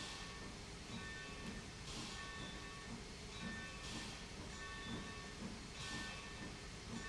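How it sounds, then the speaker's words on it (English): A steam locomotive in Trainz 2022 hisses steadily under a constant rumbling mechanical drone, with faint rhythmic knocking throughout; fairly quiet and even. "I can't see him coming because this guy is just bleeding steam"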